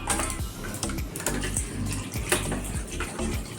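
Water pours steadily into a pot of marinated food with bay leaves, a continuous close gushing splash that runs without a break.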